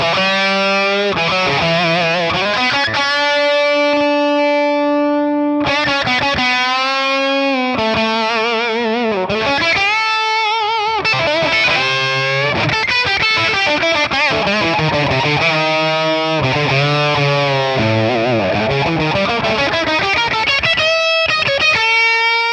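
Boosted, overdriven electric guitar through a 1963 Fender Brown Deluxe amp with reverb on, a continuous lead line of sustained bends and fast runs, loud and close, with no talking.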